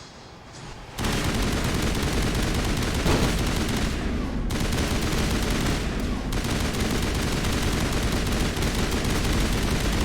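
Dense, continuous gunfire fills a shooting-gallery firefight in the video game Mass Effect, a loud unbroken barrage that cuts in abruptly and keeps pounding without a pause.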